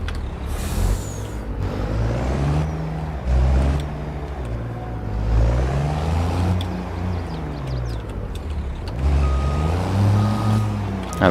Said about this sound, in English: I love the truck sounds on this.